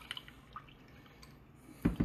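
Orange juice poured into a Queen of Hearts Disney cup: a few faint drips early on, then a short, louder splashing pour near the end, close to the microphone.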